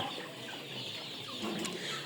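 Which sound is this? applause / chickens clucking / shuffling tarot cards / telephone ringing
chickens clucking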